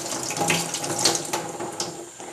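A pork loin is rinsed under a running kitchen tap, a close, steady rush of water splashing over meat into the sink, with no talking.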